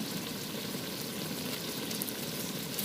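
Onion sizzling in a pan while cooking outdoors by a riverbank, a steady close, even frying hiss with soft crackle and no voices.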